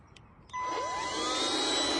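A found vacuum cleaner switches on about halfway through, its motor whining up to a steady, loud, close hum that runs to the end with no one talking over it.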